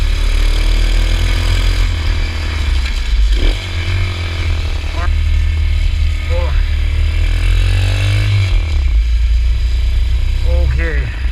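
Small Amazon-bought dirt bike engine running steadily while ridden, a loud continuous motor drone with shifting pitch throughout, joined by excited shouts from the rider.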